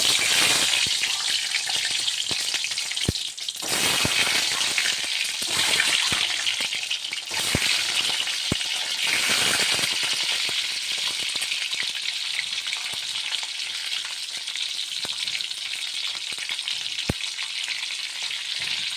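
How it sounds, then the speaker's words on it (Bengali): Loud, steady sizzling of eggs frying in hot mustard oil, a dense crackling hiss with scattered sharp pops throughout, no voices. "এবার আমি ডিমটা দিয়ে দেবো"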